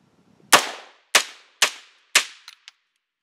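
A rifle fitted with a Mission First Tactical Battlelink utility stock fires four loud, sharp shots at a steady pace, each ringing briefly, followed by two much fainter, quick metallic clicks.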